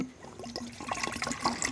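Shampoo poured from a bottle into foam sprayer bottles, a soft uneven glugging and trickling of thick liquid, close and fairly quiet.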